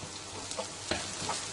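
Chicken samosa filling fries with spices in a pan, giving a steady close sizzle with a few soft stirring clicks and scrapes, and no talking.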